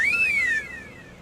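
A man whistles in imitation of a pressure cooker whistle, a single bright rising-then-falling tone lasting about half a second, close and alone, then trailing off into a faint echo.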